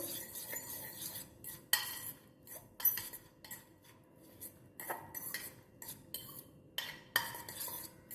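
Eggs cracked into a bowl and whisked for a prawn omelette, heard as repeated metal-on-bowl clinks and scraping strokes in irregular bursts, fairly close, with no talking.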